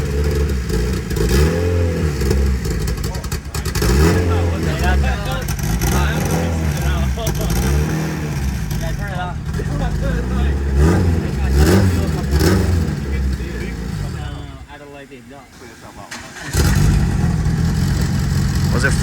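A boosted Honda Civic engine, apparently flooded with fuel, runs roughly with repeated revs rising and falling in a steady rhythm, close and loud, while people talk over it, before dipping briefly and picking back up.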